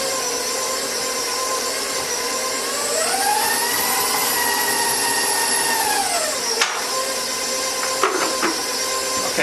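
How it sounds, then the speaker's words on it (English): An electric mixer whirs steadily, blending cookie dough with egg and vanilla, its motor pitch rising and then falling as the load changes, with a couple of clacks near the end. "we'll add the egg and vanilla, and let that mix up for a little bit."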